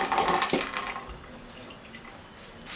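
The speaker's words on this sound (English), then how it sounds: "Give my hands a quick wash." Tap water runs and splashes over hands being washed at a kitchen sink, loudest at the start and then fading into a quieter trickle and drips, close and without speech.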